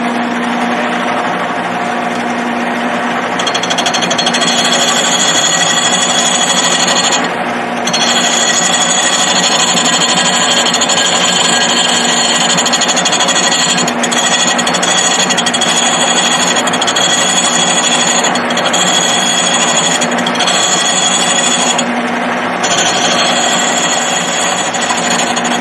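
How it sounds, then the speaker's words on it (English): A hammer handle turns on a wood lathe while a spindle gouge cuts it, a loud, continuous whining hum with a steady drone, briefly dipping a few times, close and alone without talk. "my attempt here is to use a spindle gouge"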